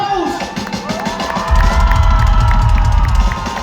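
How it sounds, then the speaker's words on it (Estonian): A concert crowd at Tartu song festival grounds cheers and whoops loudly, swelling into louder roaring cheers with a low rumble halfway through, close and continuous. "Aplaus!"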